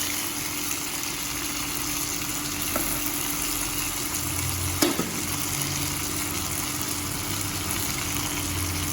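Previously fried fish pieces sizzle steadily in hot oil in a pan with fried onions, a continuous close frying hiss with a couple of brief stirring knocks near the middle.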